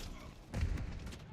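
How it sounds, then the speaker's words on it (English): A grenade going off on the Shipment map in Call of Duty: Modern Warfare III multiplayer, a short, dull, low boom midway through, fairly soft and mixed with a voice talking. "Ah! Grenade."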